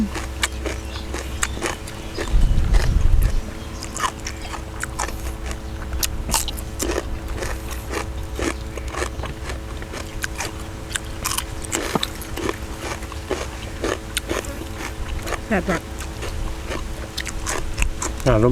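Crunchy Thai fermented pork (naem) with pork skin being chewed close up, a long run of sharp crisp bites and crackles with faint murmuring in the background.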